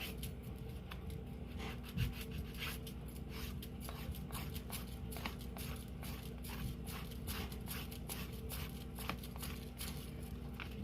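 A resin domino is filed by hand, a steady close rasping rub repeating in quick strokes over a low hum, faint and without talk.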